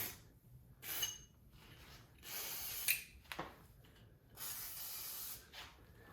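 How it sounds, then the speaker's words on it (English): WD-40 spray lubricant hisses out of the can in several separate bursts, each about a second long, with quieter gaps and a small clink between them, during work on a 1973 Kawasaki H1 motorcycle. "I'm all out of penetrating lube, so just some WD-40."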